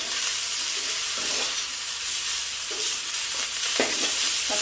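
Rice noodles with water mimosa stir-fried in a pan give a steady, close sizzle and hiss with intermittent scraping stirs, loud and continuous with no voices.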